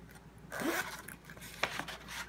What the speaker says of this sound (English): And then here's the beautiful zipper.